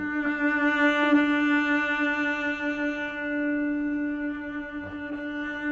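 A cello sustains one long, steady low D, rich in overtones, played close and alone for several seconds.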